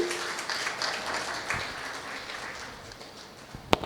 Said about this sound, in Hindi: तालियां इस बच्ची के लिए